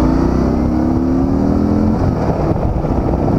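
A 2016 Harley-Davidson Softail Deluxe motorcycle on a test ride in South San Francisco, its engine note steady and loud with a brief rising tone early on, heard close alongside constant road and wind rumble and no talk.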